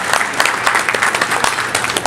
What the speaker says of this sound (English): So I think we should have a huge round of applause for all our elected officials who make the effort to be here